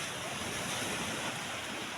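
Sea waves wash continuously onto a nearby shore where a boat stand is being built, a steady close surf roar mixed with wind noise on the microphone.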